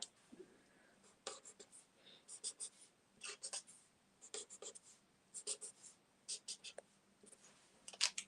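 Scissors snip paper tomato shapes for a stamped handmade card, with short crisp cuts in irregular bursts, close and quiet, while someone speaks softly.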